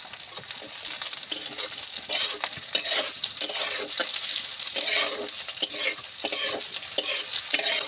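Onions frying with garlic and ginger in hot oil, stirred continuously, make a close, steady sizzle broken by repeated scraping clatters of the spatula against the pan.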